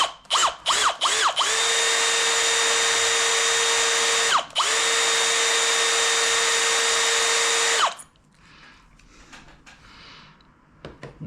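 A case trimmer cuts a 9.3x64mm Brenneke brass case with a loud, steady whirring drone after a few quick stuttering starts, a brief dip midway, then stops abruptly, leaving faint clinks and handling noise.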